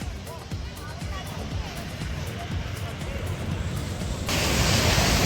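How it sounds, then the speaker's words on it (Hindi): Ocean waves on a Puducherry beach in the evening: a broad, continuous wash of surf and wind with a crowd of beachgoers chattering in the background and a nearby person talking. "ये देखो लहरों का शोर"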